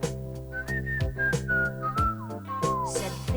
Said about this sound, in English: I can't play, but I'll whistle.